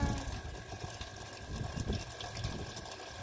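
Water gushes steadily from a shallow 20-foot hand borewell pump, a continuous splashing rush with a faint tonal hum, close and moderately loud with no talk.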